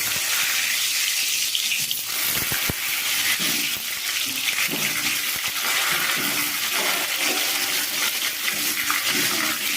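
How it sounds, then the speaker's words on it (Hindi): Potatoes frying in mustard oil in a kadhai for Bengali-style aloo mutton curry, a loud, dense, continuous sizzle and bubbling with a few faint clinks, no talking. "अब हम इसमें सबसे पहले आलू को फ्राई कर लेंगे।"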